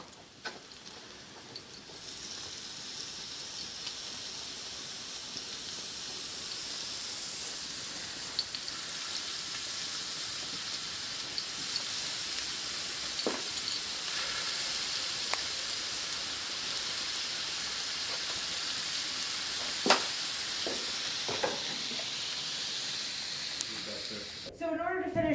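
A hot pan sizzles while beef cakes are cooked, a soft, steady hiss that slowly builds and carries a few faint ticks and pops near the end.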